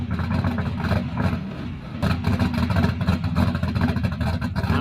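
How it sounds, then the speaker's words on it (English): Turbocharged car engine running, a loud, gruff mid-pitched rumble with pulsing revs that dip briefly then pick back up, close by and continuous without speech. "Turbo car sounding like that."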